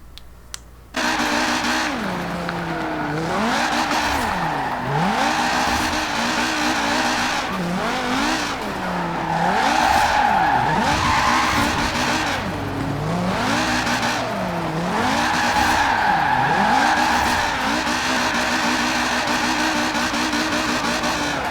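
Front-wheel-drive car drifting, its engine revving and rising and falling in repeated swoops as the tires squeal and skid, loud and close for the full length.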